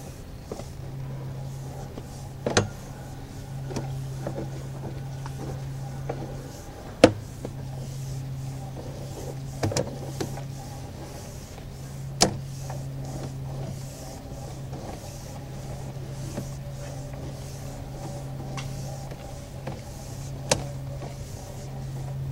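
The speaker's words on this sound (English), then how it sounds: "I'm gonna pull the camera back, show you the sewer line" A sewer inspection camera being pulled back through a sewer line, a low steady mechanical hum from the reel or motor that pauses and resumes, punctuated by several sharp clicks and knocks.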